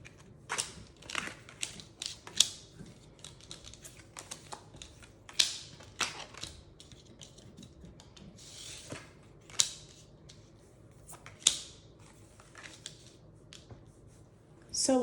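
Brisk riffling and flicking of cards, with sharp snaps and short bursts of shuffling spread through a quiet room, fairly close.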